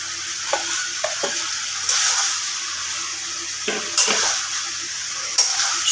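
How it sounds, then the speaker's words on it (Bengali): Potatoes go into a pan of goat liver curry already frying, bringing a loud, close, steady sizzle with a few thumps and scraping stirs as the pieces drop in and get turned. "এবার আমি এর মধ্যে আলুগুলো দিয়ে দেবো"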